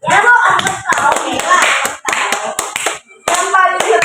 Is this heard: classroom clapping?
yes